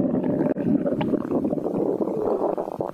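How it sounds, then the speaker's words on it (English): Deep gurgling stomach rumbles inside a whale, a continuous low churning with bubbly, wet swells and occasional brief dips, fairly loud and without any voices. "this stomach rumbling, it's making me a bit nervous"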